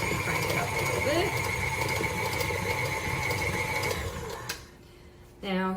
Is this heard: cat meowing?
no